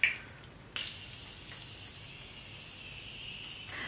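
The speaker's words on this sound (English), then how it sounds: "So I'm gonna set it with the Morphe spray first." Morphe setting spray misted onto a face: a short spritz and then a longer soft hiss lasting about three seconds, close and alone.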